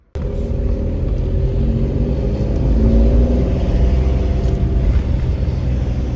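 A car, just restarted after dashboard work, pulls away and accelerates with a steady, loud low engine rumble building over several seconds, close by and without talk.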